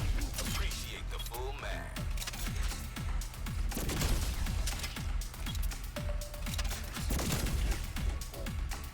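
Shotgun gunfire in Black Ops Cold War Zombies, rapid irregular blasts and impacts mixed with mechanical clatter and game effects, loud and dense throughout.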